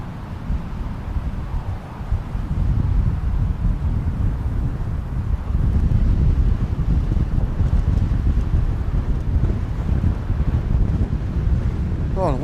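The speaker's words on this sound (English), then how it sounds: "the wind's worse this way" Strong wind buffets a microphone outdoors at night at an air base, a steady loud rumbling roar lasting throughout with no break.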